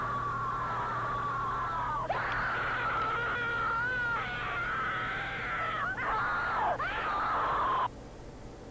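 A drawn-out, wavering scream from a creepypasta horror video, high and strained with sliding pitch, lasting several seconds with brief breaks before it cuts off abruptly.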